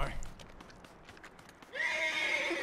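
A horse in Red Dead Redemption 2 gives a loud, bright whinny near the end, after a stretch of game ambience and someone speaking Russian.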